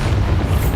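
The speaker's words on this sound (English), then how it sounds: "it said to blow up a red barrel. Bombarda." Red barrel blowing up from a Bombarda spell in a video game, a loud, sustained low rumbling boom filling the whole moment with no voices over it.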